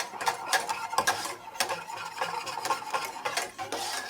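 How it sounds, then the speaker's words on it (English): A whisk stirring ingredients in a bowl while making panna cotta, a steady gentle rhythmic scraping and ticking that continues throughout at close range, with no voices. "Next job is I'm going to swap to a whisk."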